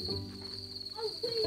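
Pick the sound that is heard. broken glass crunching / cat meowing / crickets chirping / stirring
crickets chirping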